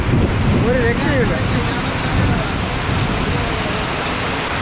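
Heavy rain pours steadily near a hillside temple, a dense unbroken roar of drops with wind buffeting the microphone throughout.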